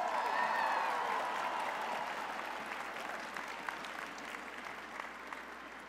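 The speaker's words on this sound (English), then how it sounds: "Let's give Charles another big round of applause." Applause at a 2018 spring commencement ceremony, a sustained round of clapping from a large audience, loudest at the start and slowly easing over several seconds.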